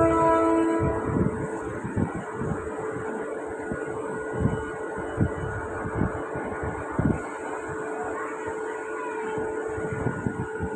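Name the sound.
local train departing from railway platform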